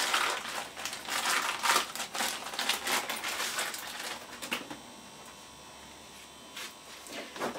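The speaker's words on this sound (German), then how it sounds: "Das können wir jetzt mal auspacken." Plastic packaging crinkles and rustles as a new needle bearing for a Vespa PX 150 engine rebuild is unwrapped, busy close crackling for several seconds, then quieter with a few soft rustles.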